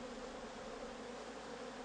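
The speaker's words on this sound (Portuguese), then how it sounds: "as abelhas voltam a trabalhar para fechar o buraco" A dense, steady buzz of honeybees swarms at a propolis-producing hive as they work to seal a gap, continuous and close with no voices.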